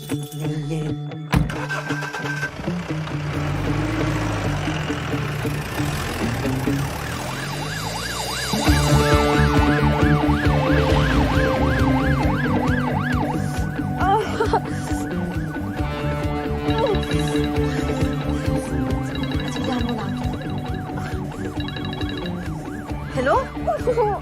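An ambulance siren wails loudly and close in a Bollywood comedy film scene, its rising and falling tone continuing throughout over engine noise and other layered sounds.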